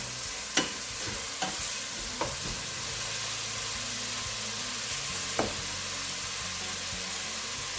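Chopped onion frying in hot oil in a pan, a steady broadband sizzle running throughout with a few sharp clicks of a spoon stirring it, close and moderately loud, no voices.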